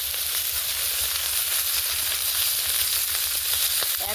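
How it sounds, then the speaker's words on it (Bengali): Fish frying in a pan make a loud, continuous close-up sizzle and hiss with no pause, no voices. "মাছগুলো এক পিট ভাজা হয়ে গেছে"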